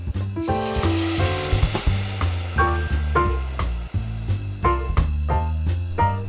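Tomato sauce sizzling in a hot pan while cooking pasta with tuna and cottage cheese: a hissing fry with scattered bursts and crackles, heard alongside steady tonal sounds, with no talking.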